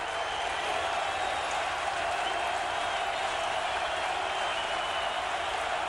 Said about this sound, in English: The crowd trying to get involved